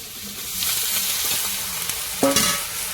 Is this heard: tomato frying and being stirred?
yes